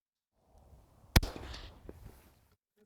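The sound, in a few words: 5.56 rifle shot with CAT WB Ti suppressor, hub mount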